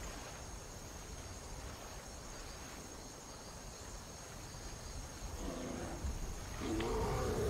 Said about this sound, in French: Attention à l'ours.